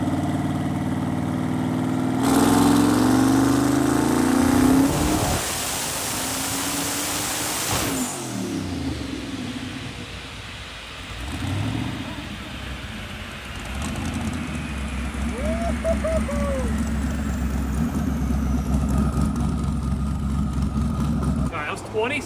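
A twin-turbo junkyard Corvette engine on a dyno at 27 pounds of boost: a loud, full-throttle roar that cuts off abruptly, then a rumbling spool-down and steady idle close by.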